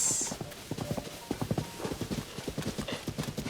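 Horse hooves clip-clop in a steady trotting rhythm in Zelda Tears of the Kingdom, with a brief whinny near the start, close and clear, no talk.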